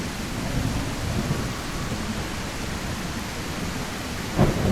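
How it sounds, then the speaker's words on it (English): A thunderstorm in the video game The Isle: steady heavy rain hisses over a low rumble of thunder, with a brief louder crack near the end. "the skies darken. Winds howl through the treetops, and the first drops of rain strike the earth"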